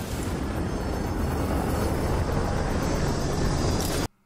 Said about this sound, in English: it's all loud helicopter noise and stuff